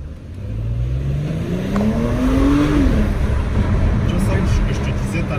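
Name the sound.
Porsche Cayenne Coupé engine revving through a gear shift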